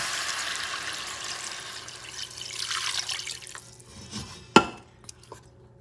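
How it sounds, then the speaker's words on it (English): Water or stock poured from a tap-like stream into a pot of Puerto Rican chicken noodle soup, a bright splashing rush that tapers off, followed by a sharp clank and a few small drips. "you add your stock or the water."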